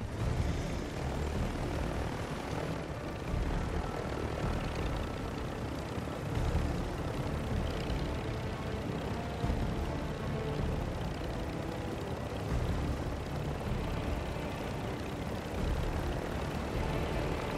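Helicopter flight in Call of Duty DMZ, a loud continuous rotor and engine drone that holds steady throughout, with no talking.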